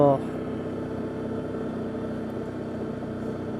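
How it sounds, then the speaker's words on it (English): A small Lombardini 686 diesel engine in an Arctic Cat Diesel 700 idles roughly with a steady, close clattering rumble for several seconds, after a brief voice sound at the very start. "as noisy, clattery as this little 686 Lombardini engine idles"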